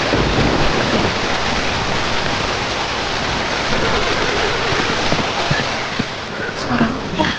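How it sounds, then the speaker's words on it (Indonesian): Steady heavy rain and rolling thunder in a Sakura School Simulator game scene, a loud continuous wash of noise with low rumbles, a few faint sharper sounds near the end. "Hujan?"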